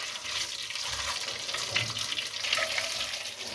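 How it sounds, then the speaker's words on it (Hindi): Pepper, clove, cardamom, cinnamon and cumin fry in hot oil for a chicken salan, giving a steady, close, hissing sizzle that runs throughout without voices. "अब मसाले को ऑयल के अंदर अच्छे तरीके से फ्राई कर लें जब तक इसकी खुशबू नहीं आ जाती"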